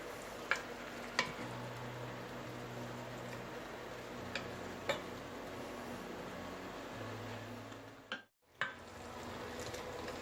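Chicken pieces frying in a pan, a low steady sizzle running throughout with a few sharp ticks and clinks, a brief drop to near silence late on.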